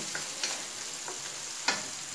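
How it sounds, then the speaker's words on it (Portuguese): Feijão tropeiro stirred and frying in a hot wok: faint, sparse scrapes and a light sizzle, with occasional soft utensil knocks and no talking. "Eu vou fazer tropeiro na panela wok."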